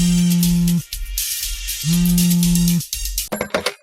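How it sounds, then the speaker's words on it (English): A phone rings inside a Roblox video game: two long, steady electronic ring tones separated by a short gap, loud and close, followed by a brief burst of clicky clatter. "someone is ringing me"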